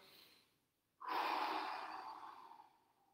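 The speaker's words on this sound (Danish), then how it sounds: "husk at trække vejret dybt ind gennem næsen og ud igennem munden" A slow, deep breath drawn in through the nose is followed by a long, audible exhale through the mouth, close and soft during a stretching exercise.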